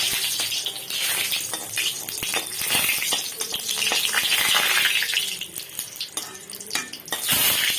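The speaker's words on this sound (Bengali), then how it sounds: "শুকনো লঙ্কাটা কিন্তু ভালো মতো ভেজে নিতে হবে।" Dried red chillies crackle in hot mustard oil for a khichuri, a busy close sizzle that swells and fades, with clattering stirs and splashes mixed in.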